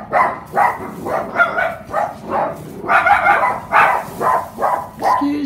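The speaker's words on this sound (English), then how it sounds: "Excuse the dogs." Several dogs barking in a rapid, repeated series of sharp yaps, with some higher yips mixed in, fairly close in an indoor home setting during Christmas gift unwrapping.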